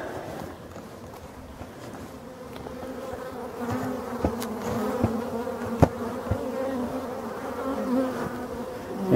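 Honeybee drones buzzing out of a forest beehive, a dense steady hum of many insects close by, with a few sharp clicks and taps over the drone.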